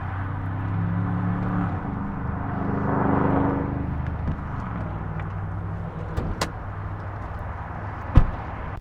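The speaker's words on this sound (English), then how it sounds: "Let's go ahead and pop the hood." Hood release on a 2024 Nissan Frontier PRO-4X: under a low background hum comes a sharp mechanical click, then a few seconds later a louder solid thump of the hood latch letting go, close by.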